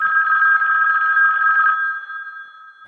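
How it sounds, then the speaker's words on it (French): A dusty old landline telephone rings loud and close, a continuous electronic bell trill that stops partway and leaves a fading tail. "On n'entend que ça, la sonnerie du téléphone, celle de son fixe, qui ne fonctionne presque jamais."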